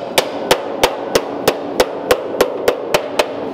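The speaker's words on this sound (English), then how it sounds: "I'm kind of hammering in just to knock it down over the" Sharp metallic hammer strikes on the sheet metal door panel edge of a Ford Model A land in a steady, even rhythm, about ten blows, close and loud over a faint background hum.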